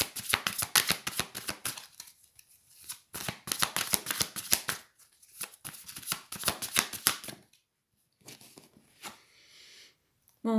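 Tarot cards being shuffled in two long riffling bursts of quick, crisp slaps, then a few softer shuffles and card handling toward the end, close and alone.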